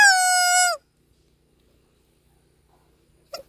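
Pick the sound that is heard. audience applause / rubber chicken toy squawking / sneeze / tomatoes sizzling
rubber chicken toy squawking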